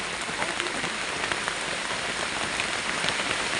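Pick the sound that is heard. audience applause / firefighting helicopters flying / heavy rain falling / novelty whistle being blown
heavy rain falling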